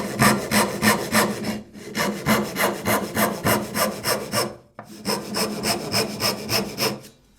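A hand saw with eight years of use rips through thick 1-inch pine board in quick, even back-and-forth strokes, loud and close, with a short break midway and no talking.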